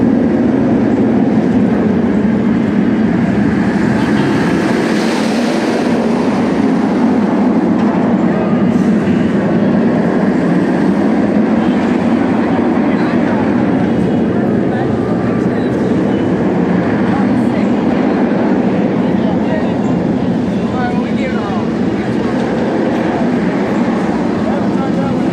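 The B&M floorless roller coaster Rougarou at Cedar Point runs along its track with a loud, sustained roar and rumble that swells and fades over about 25 seconds, with crowd noise and voices mixed in.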